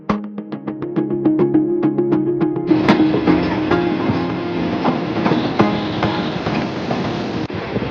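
A fast-moving train on the line from Petrapole into Bangladesh rolls with rhythmic clickety-clack wheel beats and metallic clanks, loud and close from onboard, first over a sustained tonal hum, then a broader rushing rumble.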